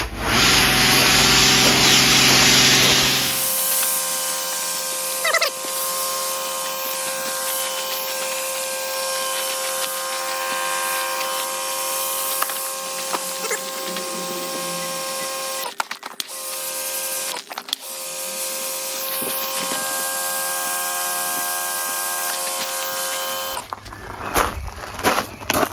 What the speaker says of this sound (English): Bit of driving spray now.